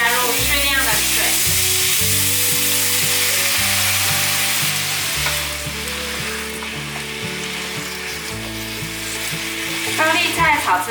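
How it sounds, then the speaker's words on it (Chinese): Shredded cabbage, bamboo shoots and sweet peppers stir-fried fast in a hot wok, with loud continuous sizzling and scraping of the spatula, while music plays underneath. "还有甜椒，快速的翻炒"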